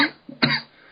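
A short, close cough, a small hack followed by one stronger burst that trails off, heard alone with no talk.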